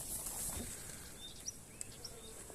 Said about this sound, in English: we have a few bees here